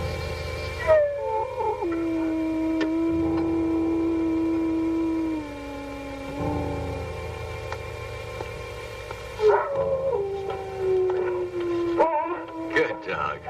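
Dog howling in a dim horror-film scene, long wavering tonal wails that slide down in pitch, loud and sustained, with a second howl rising after a pause.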